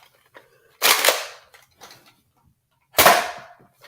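Foam dart launcher firing at a target, two sharp bursts about two seconds apart, each a loud airy pop with a short hiss, plus faint handling clicks in between.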